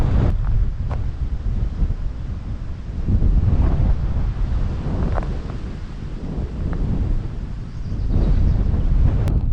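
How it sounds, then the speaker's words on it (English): Strong wind buffets a microphone on an abandoned railroad trestle bridge, a loud continuous roar that swells and eases in gusts with no talking. "It's really windy on the trestle"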